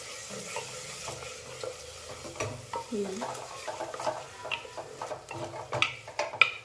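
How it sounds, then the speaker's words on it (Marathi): A paste of spinach, green chili, coconut and garlic fries in oil for spinach pulao, with soft sizzling under repeated spatula scrapes and light pan knocks that grow livelier toward the end. "ती आपल्याला यामध्ये टाकून घ्यायची आहे आणि चांगली तेलामध्ये परतून घ्यायची आहे"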